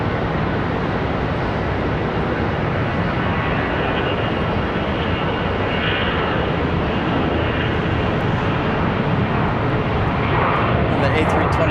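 An Airbus A321 jet departs, its engines giving a dense, sustained roar with a slowly shifting tone, steady and fairly loud from start to end.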